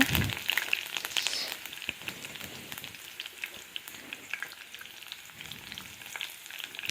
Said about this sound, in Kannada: ಸ್ವಲ್ಪ ಎಣ್ಣೆ ಹಾಕ್ಕೊಂಡು ಸಾಸಿವೆ ಕಡಲೆಬೇಳೆ ಹಾಕ್ಕೊಂಡು ಕರಿಬೇವು ಇಟ್ಕೊಂಡಿದ್ದೀನಿ